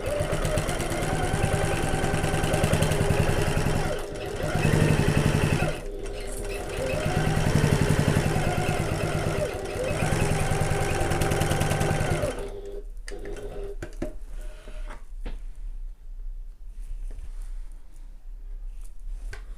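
A sewing machine runs in long, loud, steady bursts while stitching the seam of a bag, its fast mechanical whir stopping and restarting several times before it falls quiet and only soft handling noises remain.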